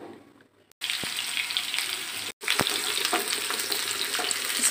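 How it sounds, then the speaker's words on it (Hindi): Chopped onions dropped into hot oil with roasted cumin for egg and bottle gourd bhurji, a sudden loud sizzle that settles into steady frying with spatula stirring, briefly cut off and then resuming, no voices. "ज़ीरा अच्छे से भुन गया है, अब इसमें हम ऐड कर देते हैं प्याज।"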